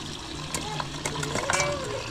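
Running water splashes over a cooking utensil as it is rinsed, a continuous close trickle and slosh with a few clinks, while someone talks over it.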